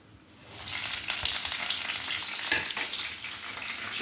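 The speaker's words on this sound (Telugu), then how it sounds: "అదే మూకుట్లో కొంచెం నూనె వేసుకొని ఇలా కట్ చేసి పెట్టుకున్నాం కదండి పండు మిరపకాయలు" Red chillies hit hot oil in a pan, and a loud sizzle bursts in after half a second and holds steady, with light stirring and no voices.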